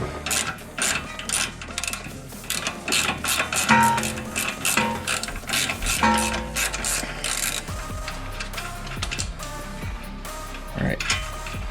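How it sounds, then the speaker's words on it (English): A ratchet clicks in rapid bursts while loosening a front suspension bolt on a 2008 Honda Element, close and busy, with short pauses between strokes. "Once it's loose, I can move either to an impact gun or just a ratchet, whichever works best"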